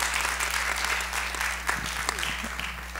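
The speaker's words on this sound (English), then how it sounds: "McRobbie a round of applause" Audience applause for Mrs. McRobbie at a women in leadership panel, a steady dense wash of clapping that holds for the whole stretch, with a faint voice or two underneath.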